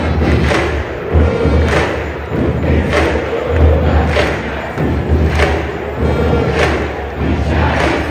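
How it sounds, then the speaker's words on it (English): Repeated booming fireworks bursts echo at a steady pace, roughly every second, over a constant roaring crowd at a football stadium in Argentina. "Who's setting off fireworks over here then?"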